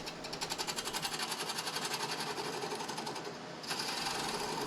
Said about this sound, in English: I turn away a concave shape in the bottom of the lid that eliminates the mounting hole and peg.